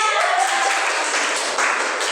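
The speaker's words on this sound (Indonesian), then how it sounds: "tepuk tangan dong buat Irma" A class claps for a classmate in a steady, dense patter of applause, fairly close and even throughout.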